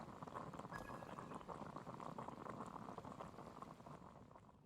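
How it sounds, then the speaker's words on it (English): Water boiling in the video game Genshin Impact, a steady dense bubbling and crackling that stays quiet and continuous before fading slightly at the end. "I'll boil some water."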